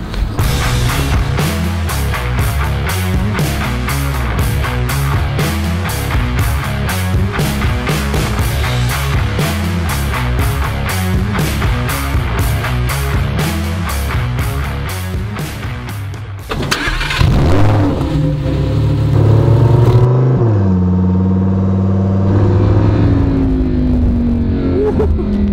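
Lamborghini Huracán EVO, naturally aspirated V10 of 630 horsepower, heard from aboard while driving: a loud pulsing engine drone that swells into a sharp revving surge near the end.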